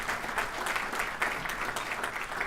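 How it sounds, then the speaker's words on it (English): A congressional State of the Region gathering applauds a supporter's wife; a brief, fairly quiet burst of many hands clapping steadily, with no talk over it. "Give her a big round of applause also."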